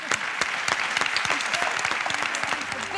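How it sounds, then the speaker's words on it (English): An audience at the Berlinale 2018 award ceremony gala applauds the winners with brisk, sharp clapping at moderate loudness across the whole stretch. "A big round of applause and congratulations for the winners."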